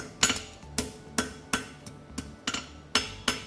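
A hammer strikes a horseshoe to fold out its toe clip, with sharp metallic blows in an uneven, quick rhythm, about a dozen clear ringing hits, close and alone.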